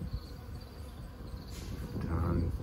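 Honeybees swarming inside the wall of a house give off a steady, dense buzzing hum that swells a little louder toward the end, with no voices over it.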